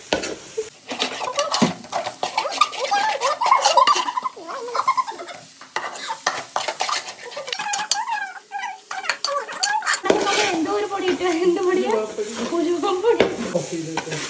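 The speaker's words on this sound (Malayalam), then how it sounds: "മല്ലിപ്പൊടി ഇട്ട് കൊടുത്ത് ദീപ്തി ഇളക്കും" A spoon scraping and stirring chicken curry with coriander powder in a pan, repeated clinks and scrapes in an uneven rhythm over a constant close sizzle of frying.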